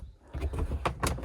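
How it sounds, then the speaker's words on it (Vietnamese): A door on a Funluce Ei Nido camping car is worked open and shut, giving a short run of close mechanical clunks and sliding rattles, low and thumping, with no voices. "Cái cửa này mình có thể mở ra mở vào được."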